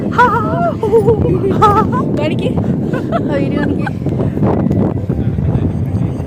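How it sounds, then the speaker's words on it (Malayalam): Strong wind buffets the microphone in a steady low rush, with people talking loudly close by over it. "ഇങ്ങനെയാണ് കാറ്റ് വരുന്നത്"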